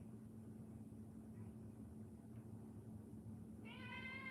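A domestic cat lets out a single short, tonal meow near the end, faint against a steady low electrical hum in a quiet studio room.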